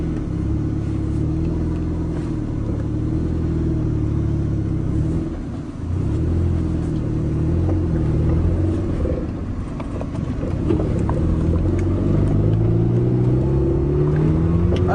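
A boat engine runs at half throttle up to about 20 mph, giving a loud, continuous motor drone with slight dips and a rising pitch near the end.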